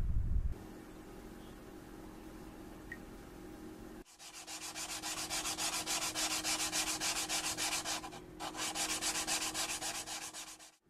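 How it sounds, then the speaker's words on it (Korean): Seashell being ground on a whetstone for Ryukyu lacquerware mother-of-pearl inlay: after a quiet start, a loud, close, continuous rhythmic rasping of back-and-forth strokes runs for several seconds, pauses briefly, then resumes. "숫돌로 갈고 손가락으로 확인해 가면서 전체가 같은 두께가 되도록 합니다."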